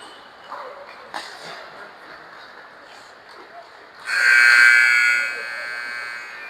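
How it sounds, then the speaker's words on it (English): An ice hockey arena buzzer sounds to end the warm-up, a loud sustained electronic tone lasting about a second amid crowd murmur and an announcer's voice in the background. "And there's the buzzer."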